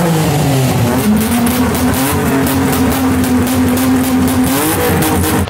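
BMW E36 engine and exhaust running loud and close with a steady droning note that climbs slightly in pitch and then holds, sounding rough and harsh throughout.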